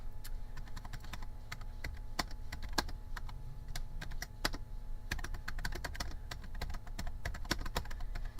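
Rapid typing on a computer keyboard, a steady run of light key clicks lasting throughout at close range, in a quiet room with a low background hum and no talking.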